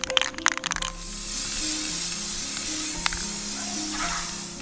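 Krylon spray paint sprayed onto a dollar-store bowl: a few quick rattles at the start, then a steady close hiss from the can that runs to the end.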